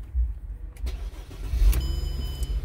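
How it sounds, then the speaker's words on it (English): A Mercedes-Benz car engine, previously misfiring and fitted with a DME 9.7 engine computer, runs with a steady, smooth low rumble close by, with no voices. "This car look running very smooth."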